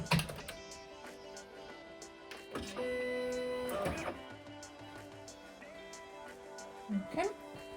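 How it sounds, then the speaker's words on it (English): Powering on a Silhouette Cameo cutting machine brings short electronic beeps, a brief steady motor whir and clicks as it starts up, all close and fairly quiet, with a voice talking now and then. "Now we can put the machine on."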